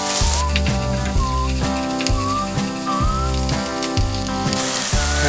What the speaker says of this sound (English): Adding some curry leaves.